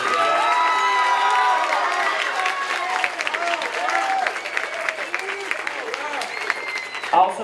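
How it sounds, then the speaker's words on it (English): An audience at a school spring band concert applauds, a steady round of clapping with some cheering that fills the room, loud at first and thinning slightly toward the end. "If we could give a round of applause in case she comes back and watches the video."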